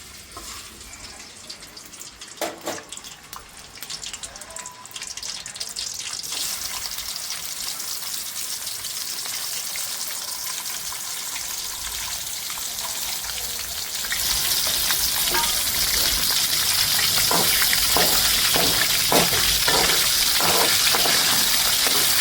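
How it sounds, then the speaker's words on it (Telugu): Oil sizzles and fries steadily in a pan while cooking egg and dry bombil curry, starting quieter with a few clinks, then surging into a louder, bright crackling hiss with scattered pops and stirring. "ఇప్పుడు ఆయిల్ వేసి ఫ్రై చేసుకుందాం"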